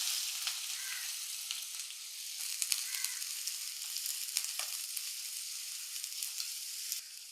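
Mustard seeds and dried red chili frying in hot oil, a continuous crackling sizzle with scattered sharp pops from the seeds, fairly close and even throughout, with no talk.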